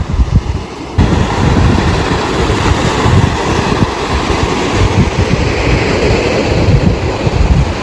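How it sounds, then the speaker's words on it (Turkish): Rough sea waves break at a summer-house shore, a loud continuous roar of surf mixed with heavy wind buffeting the microphone, with no voices. "Deniz kötü dalgalı."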